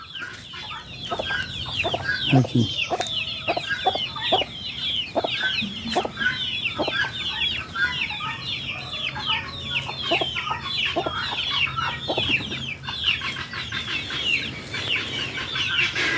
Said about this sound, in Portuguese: A galinha com os pintos.